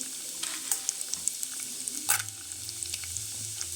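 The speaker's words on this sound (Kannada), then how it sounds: "ಎಲ್ಲ ಹಾಕ್ಕೊಂಡು ಇವಾಗ ಫ್ರೈ ಮಾಡ್ಕೊಳ್ಳೋಣ." Urad dal and chana dal frying in a pan with cumin, a steady soft sizzle with occasional faint clinks and stirring scrapes, close and fairly quiet throughout.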